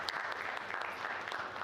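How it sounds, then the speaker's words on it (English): Steady applause from an audience at an AI conference event, a continuous patter of clapping that sounds somewhat distant and muted, with no talk over it. "let's give a big round of applause again"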